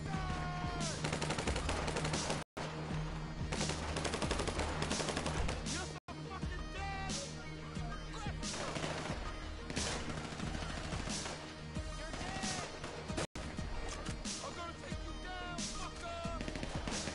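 Sustained Combat MG machine gun fire in a GTA game, long loud bursts broken by a few short gaps, with clattering impacts layered over the shooting.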